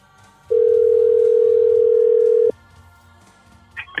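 A single steady ringback tone on an outgoing phone call to a weather service office, one loud sustained beep lasting about two seconds, then quiet line noise and a brief faint sound at the end.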